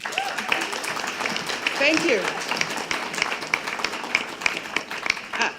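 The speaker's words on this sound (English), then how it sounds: "Give them a motivating round of applause." Audience applause at a community health evaluation forum: a dense, steady patter of clapping from a crowd that runs the whole stretch, with a speaker's voice heard over it.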